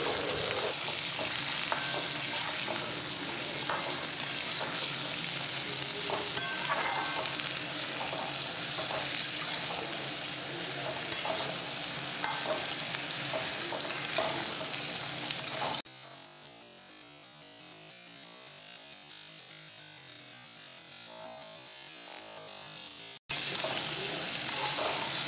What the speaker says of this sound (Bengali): চলো ডাঁটাটা আমি এখন আলুর মধ্যে ভালো করে ভেজে নিই